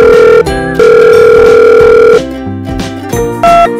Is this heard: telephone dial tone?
yes